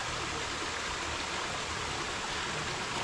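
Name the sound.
mountain river flowing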